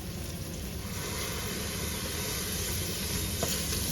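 Coriander sautés in a pan for prawn biryani, giving a soft continuous sizzle and steam hiss at close range with no voices.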